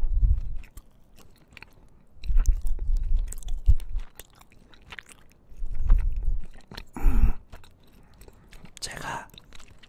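Close, crunchy chewing of a carrot-flavoured baekseolgi rice cake dessert comes in several bursts with quiet gaps between them, recorded intimately in a mukbang setting.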